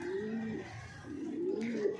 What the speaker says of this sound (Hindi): ये देखिए ये कबूतरी कभी पास आ जाती है उसके, और कभी वो कबूतर के पास चली जाती है।